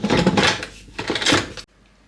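A Ninja Foodi pressure cook lid is turned and fitted, making close clattering plastic and metal knocks and scrapes over about a second and a half before an abrupt stop.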